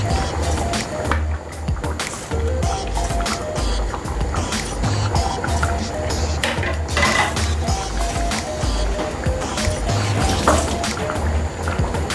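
Spinach stew being stirred in a pot, with steady wet scraping and sloshing across the whole stretch, thick and continuous with occasional clinks of the utensil against the pot.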